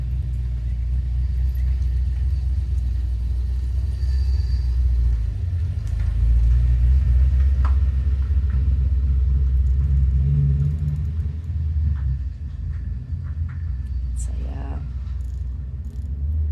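A car's engine rumbles loudly and close by, swells briefly, then fades as the vehicle drives off around a corner, while a person talks over the low droning.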